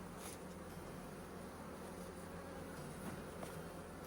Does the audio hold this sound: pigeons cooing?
no